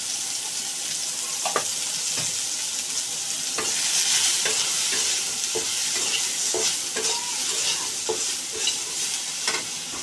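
Soybean chunks frying with turmeric and salt in oil, a dense loud sizzle running throughout with frequent clicking stirs and scrapes of a spatula, close up and without speech.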